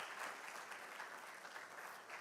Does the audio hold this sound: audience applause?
yes